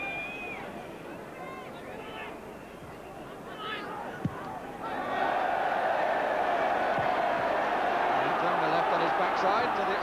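A football crowd at a Spurs v Bayern Munich match swells from a murmur into a loud, sustained roar of cheering, with a commentator's voice heard over the earlier part.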